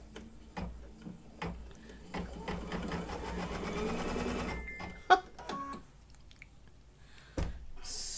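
An embroidery machine stitches out a horseshoe design in the hoop, with rapid mechanical stitching runs broken by sharp ticks and clicks, fairly close and alone.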